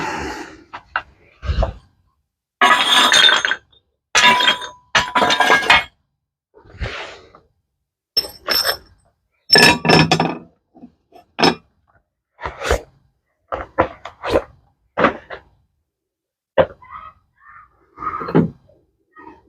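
Glazed ceramic pieces and kiln shelves being lifted out of a kiln after a glaze firing, giving a long series of scattered clinks, clacks and scraping knocks, close and sharp, separated by short silences.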